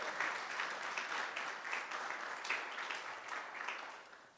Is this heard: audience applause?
yes